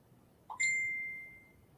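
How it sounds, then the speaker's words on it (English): A phone notification goes off once: a soft blip followed by a bright, clear ding that rings out and slowly fades over about a second, alone in a quiet room. "hear my phone going off"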